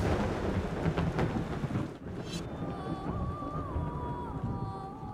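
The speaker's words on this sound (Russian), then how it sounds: "Но мы попадаем в шторм" A thunderstorm rages in the game Yonder: The Cloud Catcher Chronicles, with dense rain hiss and rumbling thunder, a brief dip, then wavering high whistling tones over the continuing downpour, loud and without speech.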